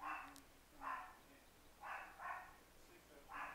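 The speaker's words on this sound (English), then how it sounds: "And now my dog's barking." A dog barks in short bursts, about five barks spread over a few seconds, faint and somewhat distant, heard in a quiet room without other talk.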